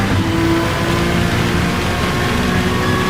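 A Honda GR3 race car in Gran Turismo 7 holds a steady, loud engine drone at sustained high revs in fifth gear on an uphill stretch of the Nürburgring, with no pauses or shifts.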